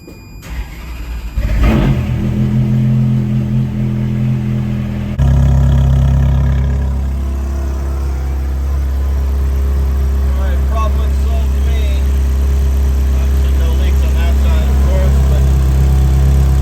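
A Ferrari F430 V8 engine cranks and catches after a fuel pump leak repair, then settles into a loud, rumbling idle with some revving; faint voices sit underneath.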